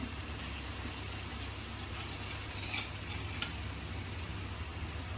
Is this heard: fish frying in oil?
yes